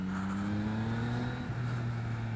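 A 2017 Yamaha XSR900 motorcycle engine on a test lap, a steady close droning hum with a pitch shift midway as the rider changes speed, no talking.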